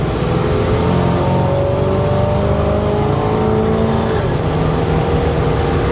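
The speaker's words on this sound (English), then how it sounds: "Exhaust has a good sound to it." A 1970 GMC K10 pickup's exhaust drones steadily while driving down the road, a continuous low rumble with slowly shifting engine tones, close and loud throughout.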